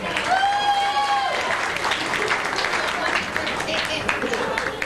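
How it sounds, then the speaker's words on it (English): Audience applause at a comedy show, a dense burst of clapping from a live crowd that carries steadily for about five seconds, with a voice and some whoops audible within it. "Give yourselves a really big hand."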